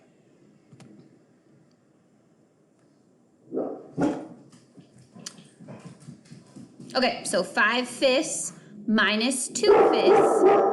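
Dogs bark several times in the background, sharp yips rising and getting louder toward the end, while a person talks over them.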